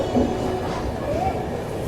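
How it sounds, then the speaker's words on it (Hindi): Mahakoshal Express pulling out of Agra Cantt railway station, a steady low rumble of rolling carriages heard from on board, with a faint rising wheel squeal near the middle. "फ़िलहाल हम आगरा कैंट रेलवे स्टेशन से निकल रहे हैं।"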